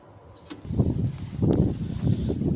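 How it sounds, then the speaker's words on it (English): Low, rumbling wind buffeting a microphone in uneven gusts, loud and close, with no talking. "sorry about the wind"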